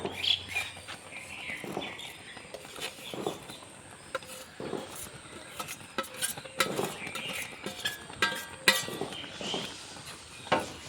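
Date palm jaggery and sugar being stirred into milk noodles in a pot, with soft scraping and occasional clinks of a spoon against metal, faint birds chirping in the background.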